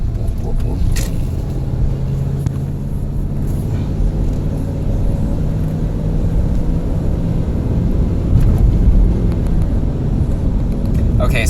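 Cabin of a 1997 Ford Expedition taking a right turn: a steady engine and road rumble fills the interior, swelling slightly toward the end, with a person talking over it.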